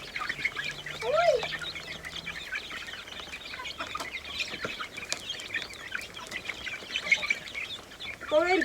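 Chickens and chicks cluck and peep on a farm in short, scattered calls. The sounds are close and moderately loud against quiet background noise.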